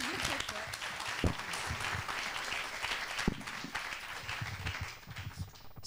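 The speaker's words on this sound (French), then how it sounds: "Merci beaucoup, on peut les applaudir très fort" Audience applause for startup finalists at a Pitch & Start competition, many hands clapping steadily with a few louder claps and some voices underneath, tapering off at the end.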